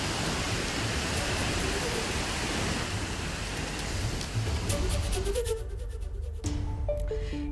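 Heavy monsoon rain in Himachal Pradesh amid landslides, a dense, loud, steady downpour hiss for about five seconds before it gives way to tonal music.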